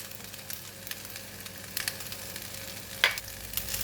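Bean sprouts and spring onions fry in a pan with a soft continuous sizzle, faint crackles and occasional stirring scrapes, one sharper clink near the end.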